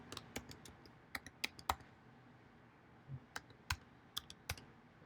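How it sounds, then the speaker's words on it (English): Someone types a password on a computer keyboard with sharp, close key clicks in short irregular bursts and small gaps, over a faint room hum. "I need to enter the password for John's computer here."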